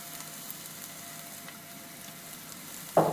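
Vegetables fry quietly in olive oil in a pan, a soft continuous sizzle at low level, then a sharper burst of crackle near the end as more goes in; no voices.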